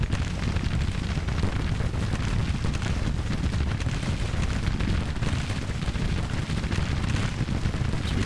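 Continuous artillery bombardment from a Grand Tactician battle, a dense, steady rumble of distant cannon fire and explosions blending into a loud, unbroken roar with no clear gaps between blasts.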